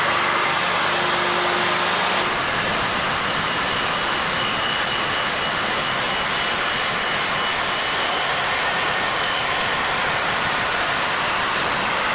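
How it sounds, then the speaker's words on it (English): A table saw blade and dust extractor run together in a woodworking shop, a loud, unbroken roaring whoosh that starts with a brief hum and then holds steady and close throughout. "So what I'm going to do is turn on the extractor, turn on the blade."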